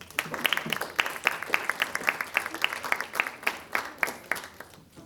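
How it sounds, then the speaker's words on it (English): A small gathering applauds a guest speaker at a writing talk, sharp individual claps in a quick, fairly regular pattern from a handful of people, tapering off at the close. "let's give Rashad a round of applause"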